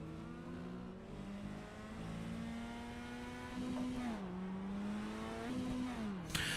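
A mini stock race car in a racing game drones at steady speed, its engine tone rising and dipping through shifts and corners, close and continuous without talk.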